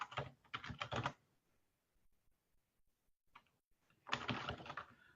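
Fingers tap quickly on a computer keyboard in two short bursts of clicking keystrokes, close and fairly quiet, with a near-silent pause and a few scattered taps between them.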